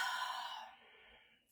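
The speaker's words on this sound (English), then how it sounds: "and exhale." One long, deep exhale during a stretching class, a soft breathy rush that fades over about a second.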